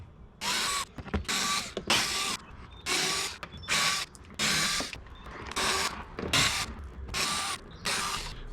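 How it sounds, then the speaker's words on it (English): A ratcheting tool backs out T15 Torx screws from a C7 Corvette tail light strip, with about ten bursts of sharp mechanical clicking separated by brief pauses, close and alone. "we have these T15 Torx bolts, Torx screws. There are 10 of them along this strip"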